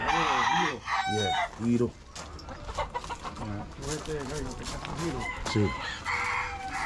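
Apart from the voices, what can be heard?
rooster clucking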